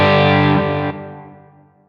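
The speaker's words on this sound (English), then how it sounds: "You'll hear the reverb tail keeps going." An electric guitar played through a Line 6 Helix, with a volume pedal pulled back, leaves a lush reverb tail. The sustained chord washes out and fades smoothly over under two seconds, alone and fairly loud.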